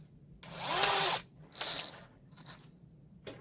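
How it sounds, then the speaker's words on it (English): A power drill whines in short bursts, a small bit biting through the thin metal of a cookie tin, three runs separated by brief pauses. "I'm going to use a smaller drill bit"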